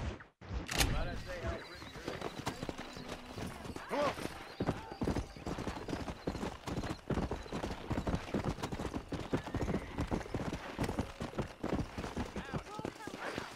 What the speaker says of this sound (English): Horse just runs right on in there.